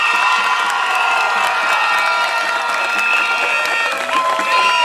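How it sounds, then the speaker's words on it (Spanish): A festive crowd at a Pueblo Nuevo Año Viejo contest cheers and applauds loudly, with shouts, whoops and a tonal whistle-like line over continuous clapping. "Yo quiero que todos ustedes que están aquí hoy nos demos un fuerte aplauso"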